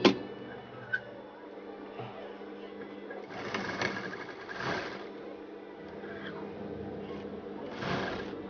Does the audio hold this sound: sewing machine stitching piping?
yes